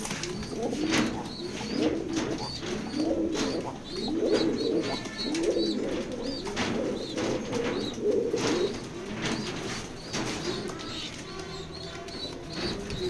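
Pigeons kept for sale coo repeatedly and close by, overlapping throaty calls in a steady rhythm, with a few chirps and faint wing flutters.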